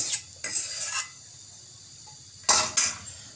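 Custard mixture for kulfi being stirred in a pan, heard as a few short, close scraping and clinking bursts separated by quiet pauses, with no talking.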